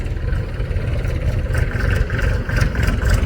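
A JCB excavator's heavy diesel engine runs steadily at close range, a low rumbling drone with a rattling mechanical texture that stays constant throughout.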